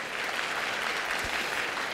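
Applause during a formal parliamentary session, dense steady clapping from many hands filling the room evenly throughout.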